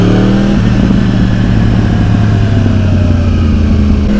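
A 2012 Yamaha R1 Big Bang motorcycle engine revs loudly and close by, with a brief higher rev that drops and settles into a steady, throbbing engine note for several seconds, with no talking.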